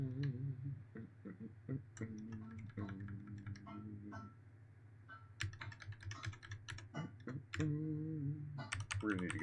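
Typing on a computer keyboard while programming, a run of light clicking keystrokes in irregular bursts under intermittent speech, close and moderately loud.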